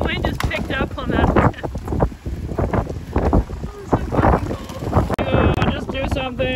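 Gusty wind buffets the microphone outdoors at a skateboarding session, a loud, ragged rumble that swells and dips for several seconds while people talk over it.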